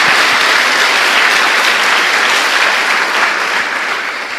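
A church congregation applauding during a Portuguese-language sermon: steady, dense clapping from many hands, loud and full throughout, fading slightly at the end, with no speech over it.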